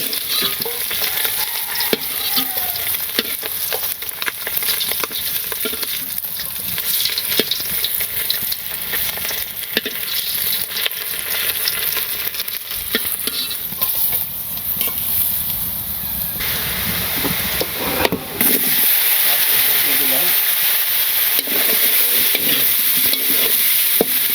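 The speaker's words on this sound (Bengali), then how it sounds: "কই মাছ ভাজি হয়ে গেছে" Koi fish frying in a pan in a village kitchen, a loud sustained sizzle and crackle with scattered stirring knocks, close and continuous, growing denser and steadier toward the end.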